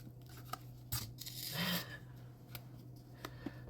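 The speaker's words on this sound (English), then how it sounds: "She's playing with a piece of paper." A pet bats and crinkles a piece of paper nearby, producing quiet papery rustles and sharp crackles in short bursts, with one longer scrunching sound midway, faint against a low background hum.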